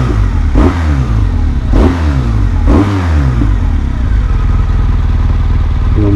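A motorcycle engine idles close by and is blipped three times, each rev rising sharply then falling back to a lumpy, throbbing idle.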